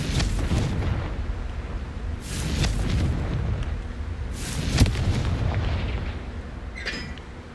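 Confringo spell blasts in Hogwarts Legacy, two heavy booming explosions a few seconds apart over a constant rumbling background, followed by a fainter pop near the end.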